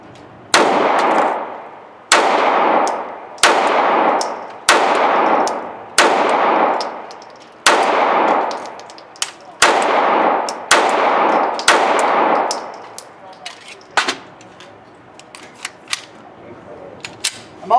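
A new EMP pistol fires a second magazine in a torture test: about ten loud, close shots at a steady pace roughly a second and a half apart, each ringing out, followed by scattered metallic clinks.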